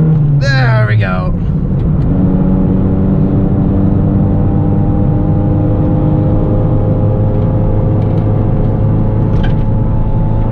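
A Honda Civic EG hatchback's engine drones loudly and steadily in third gear at highway speed, heard from inside the cabin with a constant low rumble and a whining tone, while people talk over it near the start.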